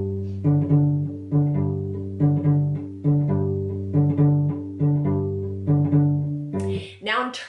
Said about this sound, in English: a basic Latin style rhythm would sound like this